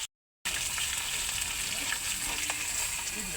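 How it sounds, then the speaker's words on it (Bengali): Tangra fish frying in hot oil, a steady close crackling sizzle with scattered pops that starts abruptly after a brief silence and holds on without talk. "দেখো মাছ ভাজা হয়ে গেছে"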